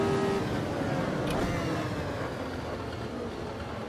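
A race car engine drones steadily at high revs in a retro Formula racing video game, loud and continuous, with a brief shift in pitch as the gear changes.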